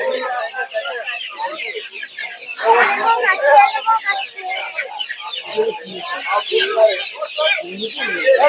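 Chickens at a local poultry market in Narsingdi, Bangladesh, cluck and chatter densely and continuously nearby, with rises and falls in loudness as the birds jostle. Voices of people are mixed in with the flock.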